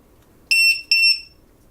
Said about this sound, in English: is actual LiPo alarm, so that'll cycle through and tell you what your battery is